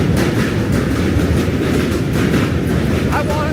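A train rumbling past on the rails in New York City, a loud continuous roar with steady rattling close by, no talk over it.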